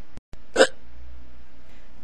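A single sharp hiccup, close and fairly loud, a brief voiced gulp standing alone against a quiet background.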